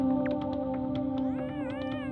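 A cat meow from the cat effect in the video game Yume Nikki, a single drawn-out tonal meow over a steady background drone of game music, close and clear, with no talk.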